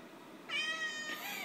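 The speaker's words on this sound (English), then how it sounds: "my cat Vince is going to make an appearance. Hey, be quiet" A house cat meows once, a short fairly close cry midway through, over a quiet room background, with a fainter follow-up whine at the end.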